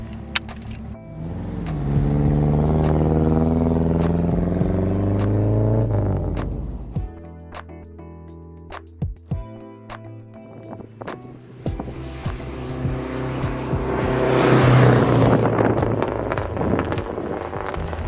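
A 1962 Mercedes-Benz 190 SL with a carbureted engine cranks and fires up in desert heat, a rising harmonic engine note settling into idle, then rough revving and driving sounds with wind-like noise building loudly toward the end.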